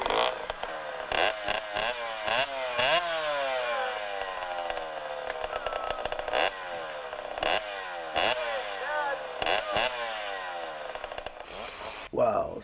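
A motorcycle engine revs in uneven, surging bursts as a new rider works the clutch, loud and close, with the pitch rising and falling repeatedly and voices talking over it.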